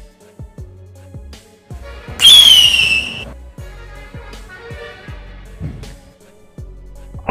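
A homemade missile gun built from matchsticks fires once with a sudden hissing, fizzing burst and a brief whistle. Soft knocks and taps are heard before and after.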